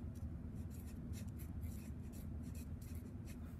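A pen scratches across a board during a maths lesson, with a series of quiet, short, irregular strokes over a low steady room hum.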